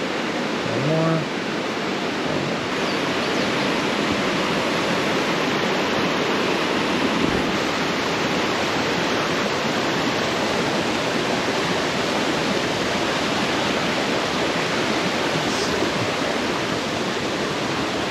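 A rain-swollen waterfall in upstate South Carolina roars as a constant, dense rushing of water heard from close by, filling the whole stretch evenly, with a brief faint voice early on.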